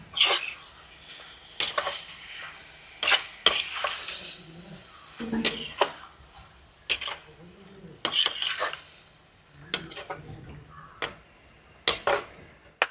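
A spoon scrapes and clatters against a pan while onion and tomato are stirred for a prawn dish, with repeated sharp metallic strokes over a faint sizzle and occasional voices.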